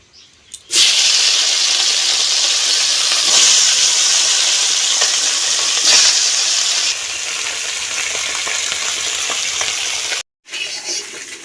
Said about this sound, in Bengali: তেলটা গরম হয়ে গেছে, এখন আমি পুঁটির মাছগুলো ভেজে নেব।